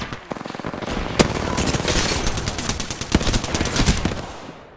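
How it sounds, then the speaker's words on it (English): Rapid automatic gunfire in the video game Apex Legends, dense bursts of shots with sharp individual cracks, loud and continuous throughout with no talking. "Getting shot at."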